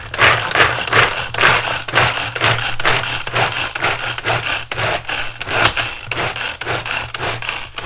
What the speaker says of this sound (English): And I'm just going to put them through the chopper.